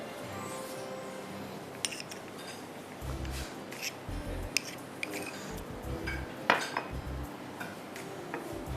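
Biscuit dough being mixed with milk and a little honey in a bowl, giving repeated clinks and scrapes of a utensil against the dish, with irregular knocks and a few sharper taps.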